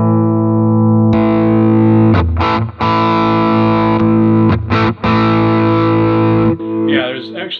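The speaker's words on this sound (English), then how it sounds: "we restrung the guitar and demoed the new hardware" Electric guitar with new hardware and humbucker pickups, played after restringing through heavy distortion, with loud sustained chords broken by short stops and a final scrape.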